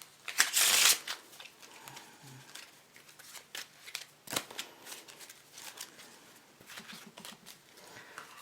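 A deck of MPC Impressions playing cards is riffled in a loud burst, followed by softer card flicks, taps and handling noises that continue intermittently.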